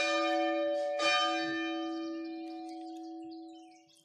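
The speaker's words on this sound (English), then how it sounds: "when that bell rings, we are being invited to come in to worship" A church bell at St. Luke church rings out with one loud strike near the start and a second about a second later, its rich metallic hum sustaining and slowly fading over several seconds with no voices.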